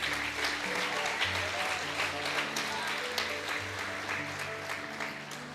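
A church congregation applauds during a preaching service, a continuous wash of clapping over sustained musical tones, with a few louder claps now and then.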